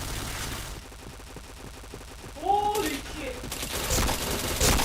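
Gunfire from a multiplayer shooter video game comes as a dense, steady rattle of rapid shots, growing louder and busier midway, with brief chirping effects layered over the barrage.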